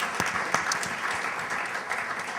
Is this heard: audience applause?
yes